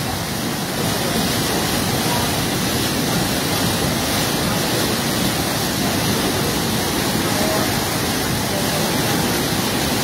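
Floodwater surges after dam gates were opened during heavy rain, a loud, unbroken broadband roar that holds steady throughout with no voices over it.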